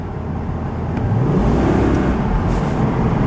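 A 2006 Mercedes-Benz CLK Cabriolet engine is floored, a loud, steady low roar with a rising drone heard from inside the car, sustained throughout with road noise.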